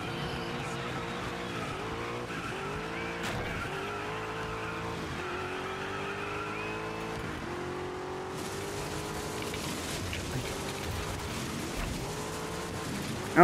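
A rally car from DIRT 5 races a point-to-point stage, its engine droning and rising through gear changes while tires skid and squeal on loose ground, loud and continuous throughout with no talk.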